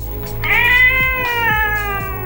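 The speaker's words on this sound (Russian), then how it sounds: "Кошки успели в меня влюбиться, поцарапать палец и даже обмяукать." Several cats in a cat café meow and yowl in drawn-out, rising cries, one loud close call overlapping others, with occasional short chirps and a steady low room hum beneath.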